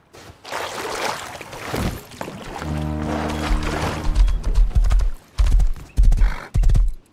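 Horse hooves clip-clop in the survival video game Rust, with a neigh and whinny, then heavier hoofbeats arrive in separate bursts toward the end, loud and close.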